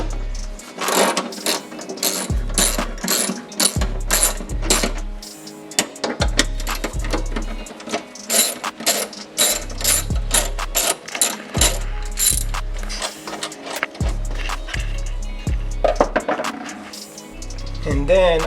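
A ratchet loosens the battery bracket on a BMW, giving rapid clicking bursts that repeat in short spurts with brief pauses between them, close and clear, with occasional low thuds and handling noise.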